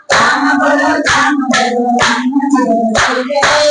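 Two hands clap sharply in a steady rhythm, about two claps per second, alongside a chanting, sung voice. Each clap comes through loud and close.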